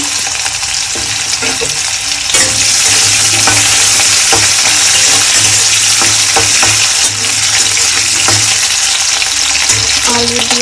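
Potatoes hit hot oil in a pan with a loud, continuous sizzle, broken by occasional stirring clatter and scraping as the frying carries on steadily without talk.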